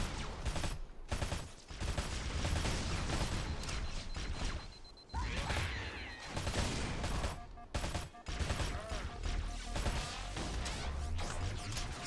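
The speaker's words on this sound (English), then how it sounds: "Let's try out the battle rifle." Battle rifle gunfire in the video game SPV3, a loud, dense run of sharp shots and impacts spread across the clip, with short gaps between bursts and layered game action underneath.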